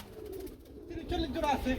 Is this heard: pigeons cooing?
yes